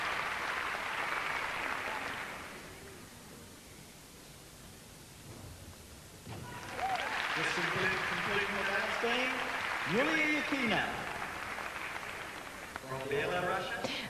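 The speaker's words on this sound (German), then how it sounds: "da braust auch hin und wieder mal der Beifall für die anderen Turnerinnen auf" Applause from the crowd at a 1993 international women's gymnastics all-around final, heard as a wash of clapping fading to quiet, then a broad swell of cheering and clapping in a large arena under a commentator's voice.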